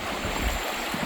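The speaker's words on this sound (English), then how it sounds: "we are going over the Kinzua Creek water, and it's flowing" Water of Kinzua Creek running high, heard as a steady rushing stream with a constant broadband wash, moderately loud and continuous, with no voices.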